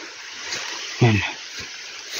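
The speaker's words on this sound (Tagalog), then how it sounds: "Itong creek. Malakas din tubig dito" Strong water rushes steadily through a rocky mountain creek, a constant broadband hiss filling the whole stretch, with a voice briefly speaking over it partway through.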